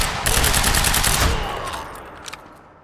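Loud, close automatic gunfire in the Quantum Break R&D facility garage: a dense rapid burst of shots for about a second and a half, then fading echoes and a couple of stray shots.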